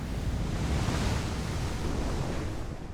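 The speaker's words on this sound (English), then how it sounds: "The enormous waves of December the 9th were created by intense tropical cyclone" Enormous ocean waves whipped up by an intense tropical cyclone roar as a dense, continuous wash of surf and wind, loud and unbroken throughout without any voices.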